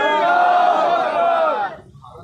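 A crowd at a Shia cemetery campaign rally shouts in unison in answer to a takbir slogan call, one loud sustained massed cry of many voices that cuts off, leaving faint murmuring.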